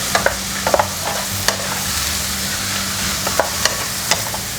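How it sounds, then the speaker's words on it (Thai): Mama instant noodles are stir-fried for a drunken noodle dish, their strands broken apart in the pan: a loud, close, continuous sizzle punctuated by repeated quick spatula taps and scrapes, with no one speaking. "ตามด้วยมาม่านะคะยีให้เส้นแตกออกจากกันก่อนค่ะ"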